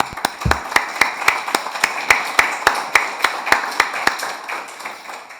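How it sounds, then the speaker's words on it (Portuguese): A small audience applauding, steady rhythmic clapping that stays fairly close and gradually softens toward the end. "Uma salva de palmas."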